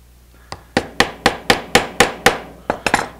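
A hammer strikes pins into knife handle scales, nine or ten sharp, close metallic taps in a steady rhythm about half a second apart, ending with a quicker pair.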